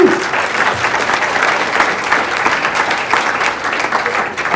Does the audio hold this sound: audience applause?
yes